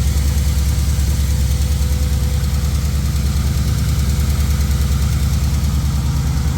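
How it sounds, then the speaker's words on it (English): An LS1 V8 engine runs at a steady idle up close, a loud continuous rumble with a fast repetitive ticking and a low droning squeal underneath, no voices. "This side tick's definitely louder. And the deep tone squeal sounds low, so maybe a crank bearing."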